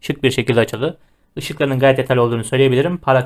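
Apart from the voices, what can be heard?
None of the usual background noises is heard.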